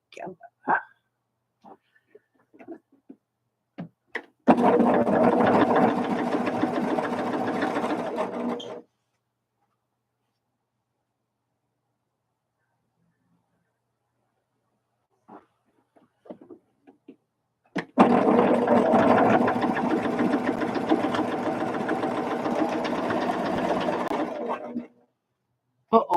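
Sewing machine stitching quilt pieces together, running in two steady bursts of about four and seven seconds, close and fairly loud, with quiet gaps and a few soft clicks and handling sounds between.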